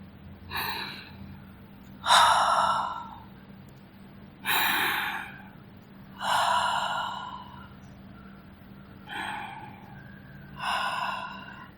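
Slow, audible breaths during a meditation practice, about six drawn-out inhales and exhales spaced every two seconds, close and airy over a faint steady hum.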